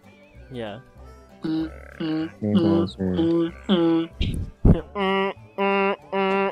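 A person vocally mimics a giraffe alarm call with a series of short, low grunting and croaking bursts in a rhythmic run, loud and close, mixed in among casual talk during an Overwatch gaming session.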